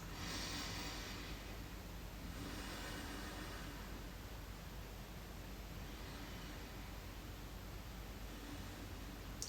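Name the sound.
breathing in and out through the nose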